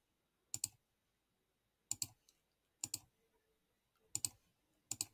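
A computer mouse gives sharp, quiet double clicks in a silent room, five separate pairs spaced about a second apart while images are selected one after another.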